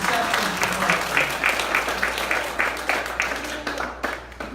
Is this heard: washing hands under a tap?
no